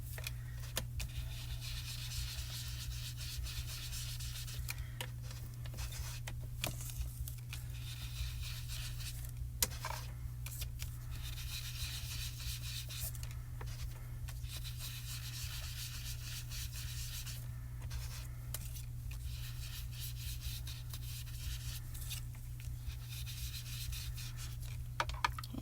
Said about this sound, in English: I'm going to take the Clear Skies and just ink blend off the paper and bring it in